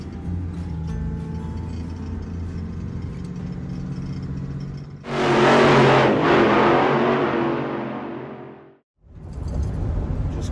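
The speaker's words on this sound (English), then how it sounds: "So I'm gonna hop in the Dodge and hit the road." A Dodge cruises along the road with a steady engine hum from inside, then a loud rushing whoosh swells for a few seconds, cuts out briefly and the driving drone returns.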